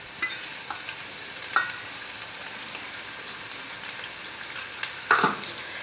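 Garlic and ginger paste sizzles in hot oil with browned onions, a continuous crackling fry broken by occasional spoon scrapes and stirring clicks, close and alone.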